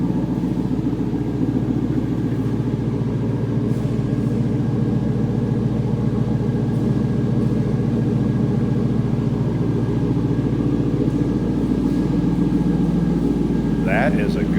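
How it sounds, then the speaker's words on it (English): A 2002 Chevrolet Camaro SS convertible with an LS1 V8 and dual exhaust idles steadily nearby, a continuous low rumble that holds even throughout, with faint background noise and a brief higher sound near the end. "That is a good sounding LS1"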